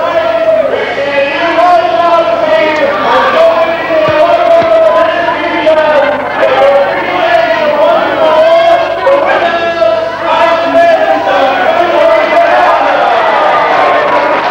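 A packed wrestling arena crowd roars and yells continuously, a loud, dense wall of cheering and shouting that swells and surges without pause.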